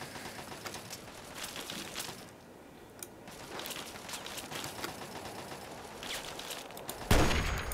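Rapid bursts of video game gunfire from Fallout 3's Operation Anchorage in Anchorage, Alaska, crackling in dense volleys through most of the stretch with a short lull, then a louder close blast near the end; no speech over it.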